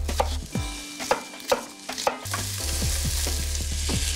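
Onions, garlic and shallots sizzle in a pan for a cioppino fish soup. A steady fry sits underneath sharp clinks of a utensil against the pan and stirring scrapes, with no talk.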